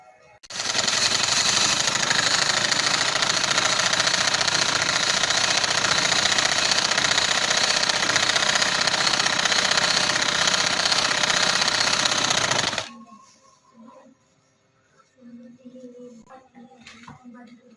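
A sewing machine stitching fabric for capri trousers runs in one continuous, loud, even mechanical whir for about twelve seconds, then stops abruptly, leaving faint rustling and handling noises.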